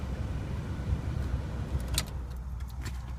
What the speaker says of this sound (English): Let me shut the car off so it's not so noisy.